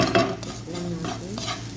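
Vermicelli is stirred with melted butter in a pan, with close scraping strokes and a soft steady sizzle underneath, no voices.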